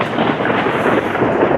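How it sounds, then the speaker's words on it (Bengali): Thunder rolling through a Kalbaishakhi nor'wester storm on an April afternoon near Kolkata, a steady loud rumble that fills the moment without a break and carries a rushing, rain-like wash. No voices. "বৈশাখের বিকেলে ঘন কালো মেঘ করে কালবৈশাখী"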